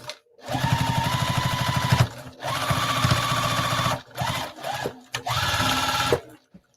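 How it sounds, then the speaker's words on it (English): A sewing machine stitches a zipper pouch in several close, loud bursts of rapid, even needle chatter, stopping and restarting with short pauses between runs. "I don't know where it was missing, but we're just going to sew it again."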